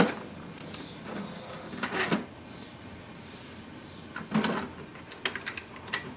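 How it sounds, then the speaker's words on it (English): An HP Smart Tank printer runs its automatic printhead cleaning cycle, giving a few separate mechanical clunks and whirring bursts spaced by quieter stretches, close and moderate in level. "Instantly it will start the automatic printhead cleaning."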